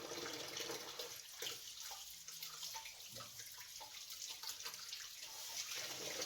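Faint running tap water splashes into a kitchen sink as meat is rinsed, a soft continuous hiss with small irregular splashes and no talking.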